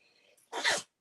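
A single sharp human sneeze bursts out close by after a near-silent pause, loud and brief, at a sewing table during a coffee break.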